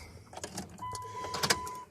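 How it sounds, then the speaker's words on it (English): Fuel pump priming on a 1999 Dodge Dakota R/T as the key is cycled, a faint thin electric whine with soft clicks and mechanical rattles nearby, quiet and short, no voices. "I hear the fuel pump"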